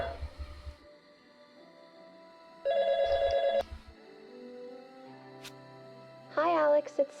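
Electronic phone ringing in the video game YIIK, a few short tonal ringing bursts between stretches of game music, with someone talking over parts of it.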